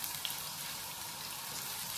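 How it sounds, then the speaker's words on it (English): Onions sizzling in a pan for sarson ka saag, a steady close crackling fry with fine popping spatter and no voices. "you'll cook this until the onions are nice golden brown"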